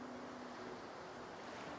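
Ocean waves wash steadily in Divinity: Original Sin 2, a continuous soft surf roar with a faint low hum beneath, even and unbroken throughout.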